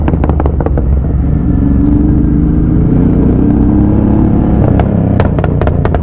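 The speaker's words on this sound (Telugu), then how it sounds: "బాక్స్ భలే వస్తున్నాయి, ఫుల్ సిస్టమ్ కదా, చాలా లౌడ్ వస్తున్నాయి." A loud motorcycle with a full exhaust system rumbles close by at an off-road track, with a deep, throbbing idle and a few sharp revs near the end.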